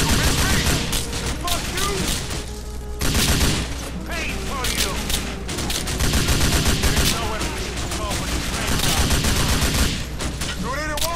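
Dense gunfire in GTA IV: The Ballad of Gay Tony, with rapid machine-gun bursts and repeated loud shots forming a near-continuous barrage, plus short pauses and occasional booms.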